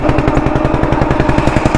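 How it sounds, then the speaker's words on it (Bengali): A motorized country boat (bhotbhoti) engine runs on a river crossing toward Mousuni Island, a loud, close, rapid, even thudding chug throughout with no voices. "ভটভটিতে ইঞ্জিন স্টার্ট হয়ে গেছে"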